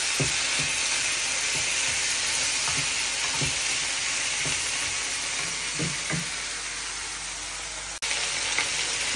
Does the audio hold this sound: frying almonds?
yes